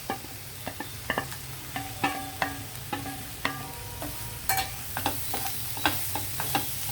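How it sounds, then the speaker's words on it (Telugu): Raw banana pieces are stirred into masala frying in a pan, with a steady low sizzle under a regular series of sharp spatula scrapes and taps against the pan, close up and with no voices. "ఈ అరటికాయ ముక్కలు బాగా కలిపేసి ఒకసారి మనము సిమ్లో పెట్టి మగ్గనివ్వాలన్నమాట"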